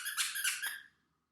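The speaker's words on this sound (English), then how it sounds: "I think almost all his toys have a little squeaky in them." A dog's squeaky toy squeaks three times in quick succession, loud, close and shrill, each squeeze blending into the next before the sound cuts off into silence.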